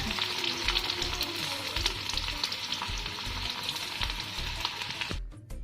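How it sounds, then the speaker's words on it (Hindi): Ginger and garlic frying in hot oil for veg momo stuffing, a loud, dense, continuous sizzle close by with light stirring, cutting off abruptly just before the end. "अदा रसुण टाक भल भाव भाजीदबा"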